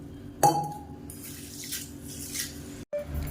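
Whole white urad dal being rinsed in a bowl of water, with soft sloshing and splashing, a sharp clink of utensil against the vessel, and faint trickling and dripping throughout.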